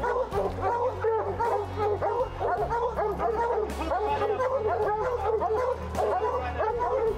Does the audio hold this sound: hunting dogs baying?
yes